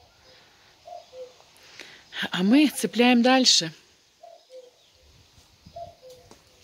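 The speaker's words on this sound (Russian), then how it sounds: "И кукушка кукует." Cuckoo calling outdoors near a garden gazebo: faint, distant two-note calls repeating a few times, with a person talking loudly over the middle of the clip.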